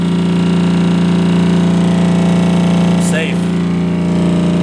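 A Hypervibe vibration plate motor runs at 28 hertz, making a loud, steady mechanical hum with a strong even drone throughout, and someone speaks briefly over it.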